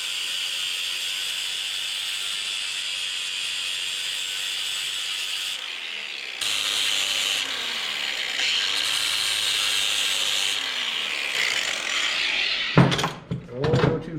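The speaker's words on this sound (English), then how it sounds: "Bust out the grinder now." An angle grinder with a flat disc grinds metal on a scratch-built mini bike frame, a loud steady high whine running throughout with brief pitch dips and interruptions, ending in a few sharp clanks.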